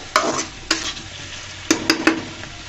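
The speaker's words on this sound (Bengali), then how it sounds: "একটু নেড়ে চেড়ে আমি কিন্তু মাঝখানে আরো নেড়ে চেড়ে দিয়েছি, না হলে তলার মধ্যে লেগে যাবে" Eggplant and dried fish sizzle in a pan while a spatula stirs them, giving about five sharp scraping knocks against the pan bottom in two quick clusters over a faint background fry.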